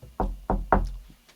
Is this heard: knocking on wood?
yes